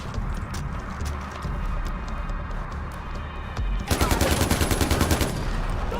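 Rapid automatic gunfire in Far Cry 4, a loud burst of evenly spaced shots erupting after a stretch of rumbling game ambience, close and dominant.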